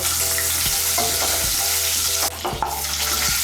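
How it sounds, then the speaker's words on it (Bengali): Eggs, lightly slit, frying in hot oil for a Bengali dish with potatoes and soybeans, a dense continuous sizzle up close with a few soft stirring knocks and scrapes, no talk. "প্রথমে আমি ডিমগুলো ভেজে নেব"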